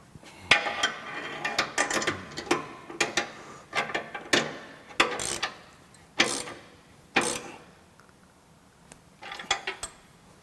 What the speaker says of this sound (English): We're going to use a 17 millimeter socket and a long extension to tighten the nuts at the top at the bracket